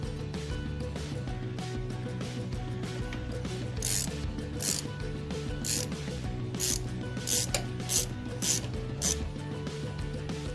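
Ratchet wrench tightening a bolt through a passenger peg mount on a Harley-Davidson M8 Softail motorcycle, a steady mechanical clicking and rubbing throughout with brief sharper bursts near the end, close and fairly constant.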